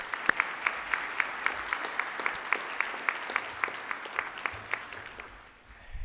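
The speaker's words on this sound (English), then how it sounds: "round of applause for the class of 2026" Applause for the class of 2026 at a white coat ceremony, a crowd clapping with one loud, rhythmic clapper standing out at a steady beat, fading away near the end.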